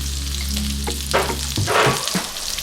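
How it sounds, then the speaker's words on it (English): Chopped onions sizzle loudly in melted margarine for Ghanaian waakye, with a dense, steady frying hiss and a few scraping stirs close by. "I'm going to fry it until it's brown, very brown."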